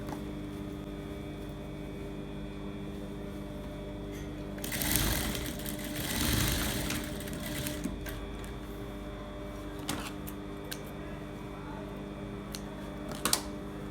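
A sewing machine runs in a steady, fairly quiet hum as the lining is stitched closed around a zipper, with a brief louder burst of stitching midway and a few small clicks near the end.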